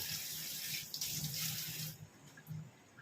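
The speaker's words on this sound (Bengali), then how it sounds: "এবার এর মধ্যে জল দিয়ে গ্যাসটা জ্বালাবো" Water runs steadily from a kitchen tap into a cooking pot for a couple of seconds with a broad hissing splash, then thins and stops with a few last trickles.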